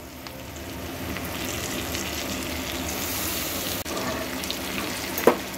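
Raw hilsa fish is laid over taro and potatoes in a hot pan, giving a steady, moderately loud frying hiss throughout, broken by a brief dip and then a sharp utensil clack near the end.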